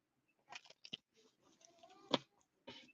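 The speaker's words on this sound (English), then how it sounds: "let me give it another shuffle right quick" Cards riffled and handled in a shuffle during a psychic tarot reading, a series of soft, close papery flicks and taps with one sharper snap near the end, quiet and alone.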